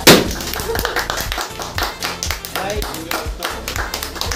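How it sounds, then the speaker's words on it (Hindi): A group claps at a celebration: quick, sharp handclaps in a loose rhythm, close and fairly loud, with voices underneath. "तालियां बजा लीजिए भाई सब"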